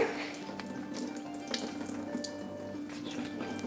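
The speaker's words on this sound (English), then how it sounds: "Okay, I'm going to let the water drain out for a minute." Water drains from an opened container of fermented tofu in a kitchen, a steady, close trickle and patter with faint splashes, continuous throughout and without talk.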